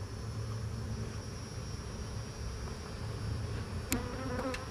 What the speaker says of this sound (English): Lots of bees covering those eggs.